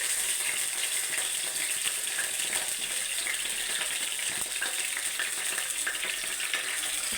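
Ginger frying in hot oil alongside curry leaves and garlic as the base for a crab curry, a dense, continuous loud sizzle with a few faint stirring clicks throughout.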